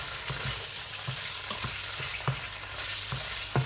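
Spicy pork frying in a pan while being stirred, a dense, steady sizzle with repeated soft scrapes and knocks of the spoon at irregular intervals, heard close without speech.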